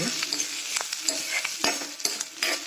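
Food roasts and sizzles in a hot pan as it is stirred, with scraping and clinking from the utensil landing in uneven bursts over a steady close-up frying hiss.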